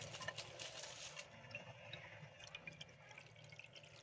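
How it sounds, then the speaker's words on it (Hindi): Water splashes and trickles into a pan on a stove before rice goes in for kheer, a close, moderately quiet pour that fades into scattered drips. "पैन में हमने पानी ऐड कर दिया है"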